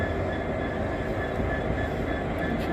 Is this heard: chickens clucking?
no